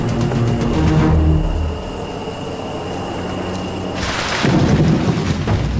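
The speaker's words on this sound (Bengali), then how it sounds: "যখন তখন বৃষ্টি নামছে আর জঙ্গলের মাটি পুরো কাদা কাদা হয়ে গেছে। আর এই বাজ পড়ায় অবস্থা আরও খারাপ।" Thunder rumbles with heavy monsoon rain in the Panama jungle: loud, steady downpour and low rolling booms, with a fresh surge of rain noise near the end.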